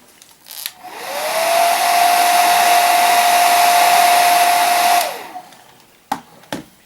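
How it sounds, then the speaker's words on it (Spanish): A hair dryer drying paint on a piece: a loud, steady blowing whine that starts, runs about four seconds and cuts off, followed by a couple of faint clicks. "Voy a secar un poco con el secador."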